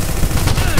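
Rapid bursts of gunfire from a Minecraft server game, a steady dense rattle of shots lasting under a second, loud and continuous.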